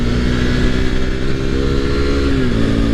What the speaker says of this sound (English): I'm allowed to take my motorbike for a bit of a ride